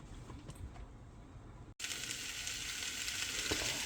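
Onions sauté in a pan of oil and butter with a soft, steady sizzle, briefly cut off by a short gap before the frying returns brighter and louder.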